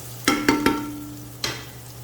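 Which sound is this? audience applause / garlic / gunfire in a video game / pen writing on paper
garlic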